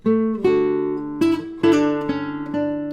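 A classical guitar plays a short melodic phrase from Carcassi's Larghetto, one note ornamented with a quick grace note, clear and close with no voices.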